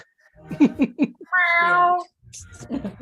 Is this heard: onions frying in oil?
no